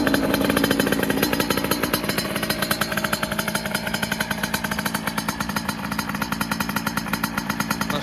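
Sherco 70 dirt bike engine with a 70cc kit started and running as a loud, rapid two-stroke-style rattle that pulses evenly and close up for the whole stretch, with no talk over it.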